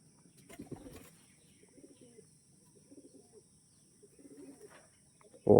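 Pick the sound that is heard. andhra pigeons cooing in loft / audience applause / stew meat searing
andhra pigeons cooing in loft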